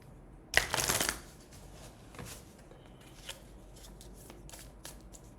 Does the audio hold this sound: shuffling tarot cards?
yes